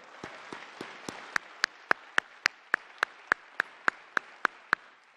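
Claps ring out at a 2020 Toyota Highlander unveiling, about fifteen sharp, evenly spaced claps that grow louder, sounding like one person clapping steadily rather than a crowd.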